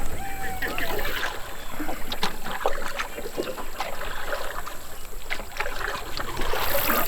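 Paddle strokes and light splashes come from a canoe gliding on open water, with a steady wash of wind and water noise and muffled voices faintly in the background.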